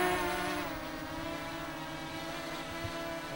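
FERIETELF B12 GPS drone with brushless motors spinning up at liftoff, a steady layered whine with a buzzing drone character, close and fairly quiet, briefly louder at the start and otherwise constant, with no talk.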